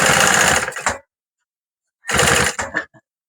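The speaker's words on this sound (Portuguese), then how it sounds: "Já tá finalizando aqui a costura." Sewing machine stitching a fabric bag, two short loud bursts of rapid mechanical stitching separated by a silent pause of about a second.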